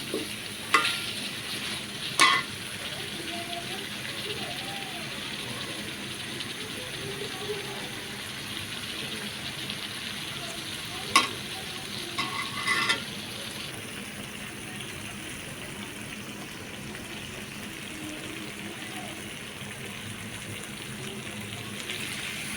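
Spices and beef sizzle steadily in hot oil, with occasional sharp clinks of a spoon stirring and a voice talking faintly at times.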